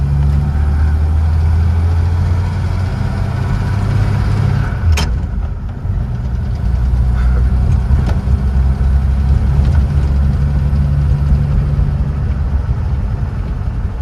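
A 1936 Nash 400 DeLuxe engine idles steadily and loudly up close, a low continuous rumble with a brief click partway through and no talking.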